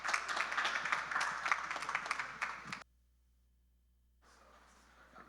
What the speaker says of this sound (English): Please give Stan and his crew a big round of applause.